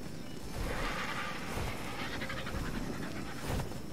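A dog pants rapidly and steadily in the video game ARK: Ragnarok, a continuous breathy rhythm that is fairly close and carries on throughout without talking.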